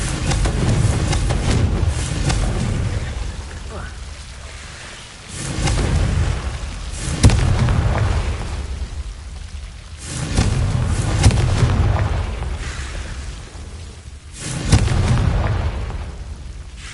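Confringo fire-blast spells in a Harry Potter video game go off as a series of heavy booming explosions, each swelling and rumbling away over a few seconds before the next blast, loud and repeated with no speech.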